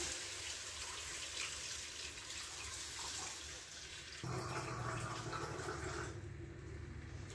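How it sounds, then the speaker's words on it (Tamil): Water poured into a Tamil-style mackerel fish gravy with peanuts, brinjal and tamarind, a soft continuous pour that shifts in tone partway through, faint and close with no talk. "அது கூட இன்னும் கொஞ்சம் தண்ணி ஆட் பண்ணிக்கிங்க."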